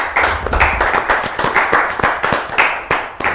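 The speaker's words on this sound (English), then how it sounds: "Can you please give him a hand of applause?" Clapping at a youth conference talk, close and loud, with a few hands beating in a rough, uneven rhythm rather than a large crowd's wash, with individual sharp claps standing out.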